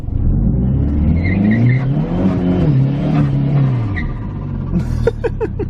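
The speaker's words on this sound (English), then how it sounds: "Once it finally got going, it broke loose in second, but I think it one wheel peeled" A car accelerates hard on wet pavement with one wheel spinning loose, its engine rising and falling in a loud, close roar, followed by sharp chirps and squeals near the end.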